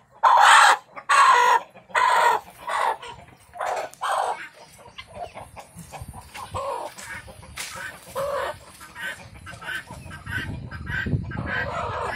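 A broody hen being picked up and carried clucks and squawks loudly in short bursts up close, then settles into softer, scattered clucking with rustling.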